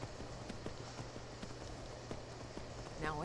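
Horse hooves clip-clop at a steady walking rhythm in Skyrim, faint and somewhat distant under a constant ambient wash, ending with a brief rise of other noise.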